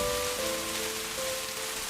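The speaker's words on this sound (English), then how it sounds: "feeling the cool, crisp beads of rain as they run over your fingertips." Steady rain pours down in a dense, continuous wash, close and fairly loud, with a faint tonal hum running underneath and no voices.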